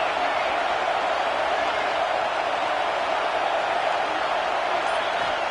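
Stadium crowd noise in a Madden football video game, a steady, dense roar of fans holding at an even level for the whole stretch, with no distinct voices rising out of it.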